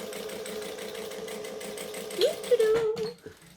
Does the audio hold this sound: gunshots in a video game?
no